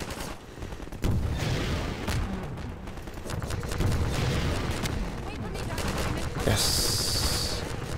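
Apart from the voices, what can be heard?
gunfire in video game Half-Life 2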